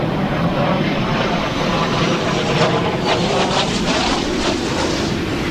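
Space shuttle orbiter on STS-122 touching down on runway 15 at Kennedy Space Center, heard as a steady, loud, broad roar with no voices over it.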